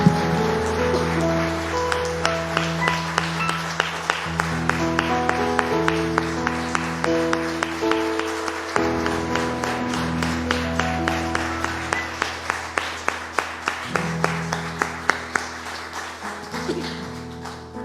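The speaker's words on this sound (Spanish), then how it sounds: "Dale un último aplauso al Señor" A church congregation claps along steadily in a regular rhythm over sustained music with held tones, loud and close throughout.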